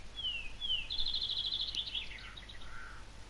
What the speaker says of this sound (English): The sound of the birds is really nice.